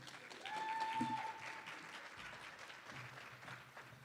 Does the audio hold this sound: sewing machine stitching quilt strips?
no